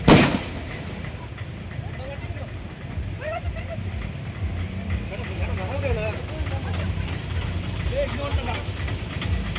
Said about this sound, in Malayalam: വനംവകുപ്പിന്റെ RRT സംഘം പടക്കം പൊട്ടിച്ചാണ് ആനകളെ തുരത്തിയത്.